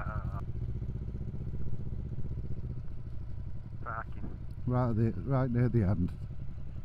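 A slightly smoky motorcycle on a Sunday ride drones steadily in the background while riders talk over the continuous engine hum.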